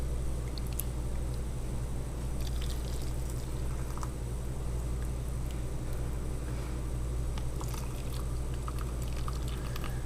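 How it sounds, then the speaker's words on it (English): Liquid is poured steadily into canning jars for garlic dill pickles, a continuous wet pouring sound over a constant low hum, with no pauses across the stretch. "So we just continue filling your jars until you have about a half inch of headspace"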